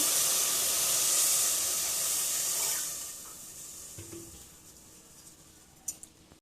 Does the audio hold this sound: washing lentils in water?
yes